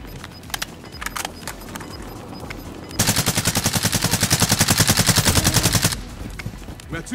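Sustained automatic gunfire erupts in a Call of Duty match set in Verdansk, a loud rapid burst of evenly spaced shots lasting about three seconds, with scattered lighter clicks and thumps before and after.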